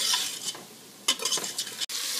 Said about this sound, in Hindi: तकरीबन 2 मिनट आलूओं को भूनने के बाद